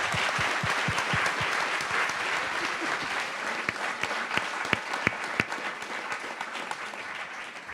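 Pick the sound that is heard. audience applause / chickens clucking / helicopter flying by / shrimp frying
audience applause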